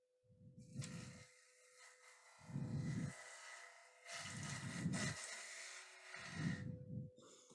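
Gouge cutting wood on a lathe while turning a hollow form: four rhythmic passes of rough, scraping cutting noise over a steady motor hum, each pass about a second long with short pauses between.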